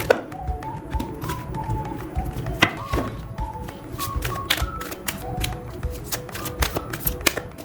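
Tarot cards shuffled and drawn from a deck, heard as a steady run of light papery flicks and sharp taps, close and fairly soft, with no talking.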